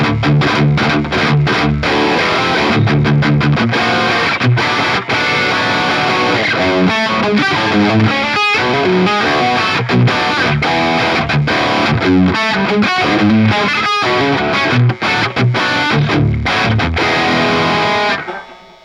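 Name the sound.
electric guitar through Bogner Ecstasy amp channel 3 with boost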